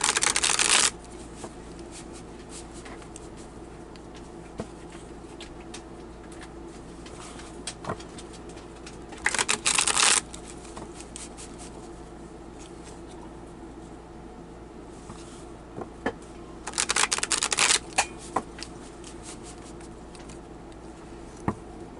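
Tarot cards are shuffled in three short, crisp bursts spaced several seconds apart, close and clear over a quiet room tone, no talk.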